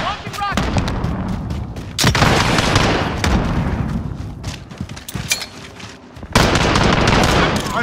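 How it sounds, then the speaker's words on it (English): Rocket launcher fire in the shooter Call of Duty: Modern Warfare, loud blasts and booming explosions over dense gunfire, with a second heavy burst near the end, all close and intense. "Launching rocket."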